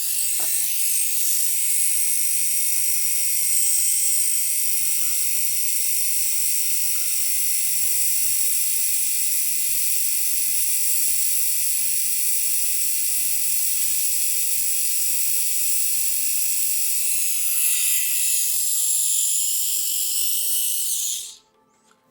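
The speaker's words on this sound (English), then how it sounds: "Alright, so I'm going to grind off that section very carefully." A small high-speed grinding tool buzzes continuously while grinding off a welded iPhone antenna connector during microsoldering, a steady close whine that holds for about twenty seconds, then stops abruptly.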